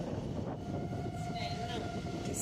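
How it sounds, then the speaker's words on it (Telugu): Steady loud rumble and rattle of a special passenger train running along rails between Hyderabad and Visakhapatnam, with a faint high squeal drifting through the continuous noise. "చూసారా ఎంత ఫాస్ట్గా వెళ్తుందో మా ట్రైన్ ఇది స్పెషల్ ట్రైన్"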